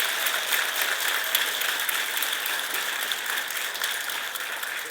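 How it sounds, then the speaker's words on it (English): An audience at the 2013 HR Summit, a government human resources conference kick-off, applauds in a sustained, dense and even round of clapping, with no speech over it. "Can I hear it by a round of applause?"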